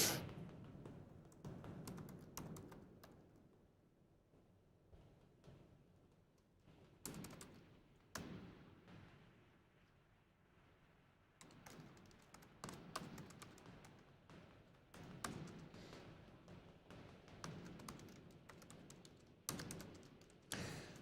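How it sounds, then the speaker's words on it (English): Someone types a note on a computer keyboard in an election-night news studio. The fast, close key taps arrive in uneven bursts, with short pauses between flurries and occasional heavier thumps, and no talking. "I'm just typing a note here."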